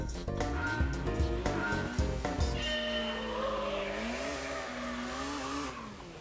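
Gran Turismo 3 on PS2, played with a wheel: a car engine revs up in rising and falling pitch sweeps, with sharp gear-change steps early on, then a sustained high whine, loud and close throughout.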